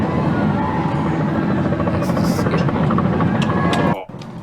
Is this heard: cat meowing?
no